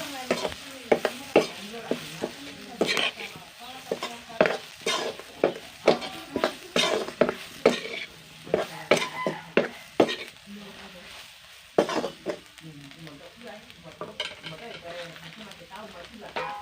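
Meat with meat masala stir-fries in a pan: a spatula scrapes and stirs in repeated strokes over a steady low sizzle, up close and with no talk over it.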